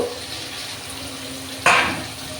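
Water splashes into a pan where hilsa fish are frying, making a sudden hissing sizzle that jumps up over the steady background crackle, then slowly fades.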